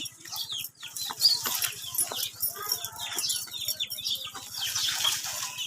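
Chicken clucking and squawking with bursts of wing flapping while being caught, close and lively, over a steady low hum, with no clear talk.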